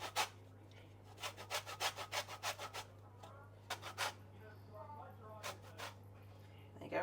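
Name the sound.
zesting a lemon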